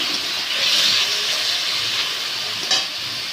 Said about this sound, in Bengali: আমি গ্যাসটা জোরে 5 মিনিট চিংড়ি মাছগুলো ভেজে নেব একটু